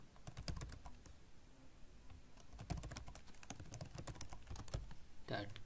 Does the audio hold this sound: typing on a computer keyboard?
yes